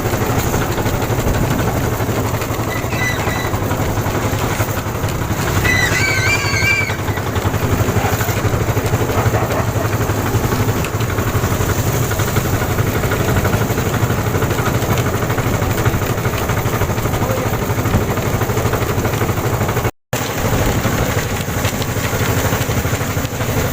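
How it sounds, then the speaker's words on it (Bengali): A motorised fishing boat (bhotbhoti) engine running at a river mouth near the sea, a loud steady low chugging drone that persists throughout, with a brief chirp of birdsong early on. "এটা ভটভটি?"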